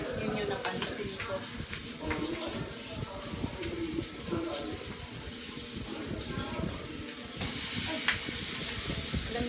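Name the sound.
food frying in oil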